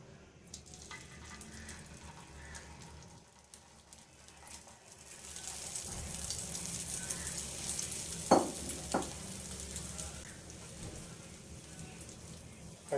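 Beaten egg poured onto an oiled griddle for a cheese vegetable omelette, giving a steady sizzle that rises in the middle, with a couple of brief clinks and faint background noise.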